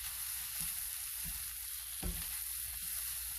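Tomato paste is pushed around a pan in an Italian kitchen, giving a soft steady sizzle with a few dull scrapes and knocks from the utensil, fairly quiet and without speech.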